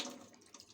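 Wheat grains poured into a pot of water on the stove for making balila, a short close splash and trickle of water with faint grain patter.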